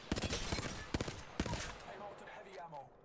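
A burst weapon firing on rapid fire in the game Apex Legends, several quick clusters of sharp shots over the first second and a half, then trailing echoes and clicks, with a voice speaking briefly.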